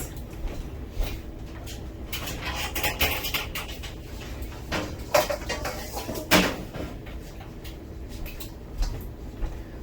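Broccoli salad with vegan cheddar being stirred together in a very large bowl, with soft clinks and scraping of utensil against the bowl and a few louder knocks, steady and close, with no talking.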